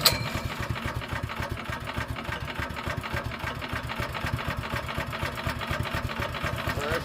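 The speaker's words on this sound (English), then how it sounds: "We got the throttle, the gas is on, and we got it on start." Small gasoline engine on a Harbor Freight Predator wood chipper shredder running, a loud, steady, rapid chugging putter that holds through the whole stretch with no voices.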